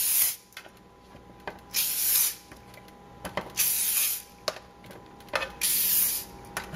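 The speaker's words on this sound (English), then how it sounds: "Now I'm going to spray down both sides of the mushrooms" Olive oil cooking spray misted over portobello mushroom caps in a kitchen, several short hissing bursts of varying length separated by quiet gaps and light handling clicks, close and clear.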